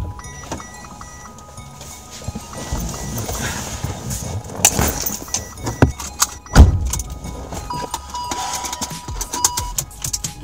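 An electric car in Los Angeles being opened, with a few sharp clunks and latch-like knocks over a low background hum, the loudest thuds near the middle, and scattered rattling like jangling keys.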